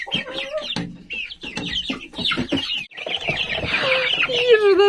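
Chickens cluck and squawk close by, several birds overlapping in a busy, continuous chatter.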